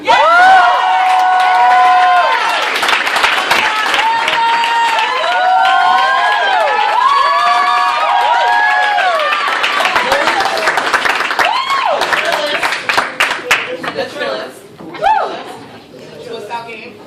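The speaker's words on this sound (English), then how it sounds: "please clap for Amber" A loud crowd at a poetry slam finals cheers, whoops and claps, with high excited shouts throughout, thinning out toward the end.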